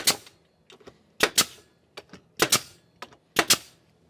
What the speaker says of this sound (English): I'm gonna nail this down to my workbench here, just so it'll stay in place.